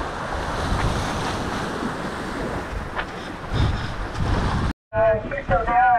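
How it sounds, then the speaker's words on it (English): Ocean waves rush against a sailing trimaran under a constant roar of wind buffeting the microphone, loud and close, then a brief dropout before someone speaks over the surf. "Surfing these waves."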